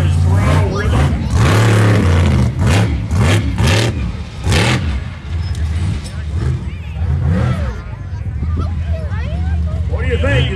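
A monster truck engine revs hard in repeated throttle bursts, loud and close, then settles into a rougher rumble, with someone talking over it.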